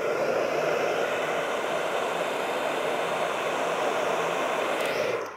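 A heat gun blows hot air onto vinyl wrap on a Tesla Model 3 or Model Y door handle, giving a steady, close broadband whoosh that holds evenly for about five seconds and then stops.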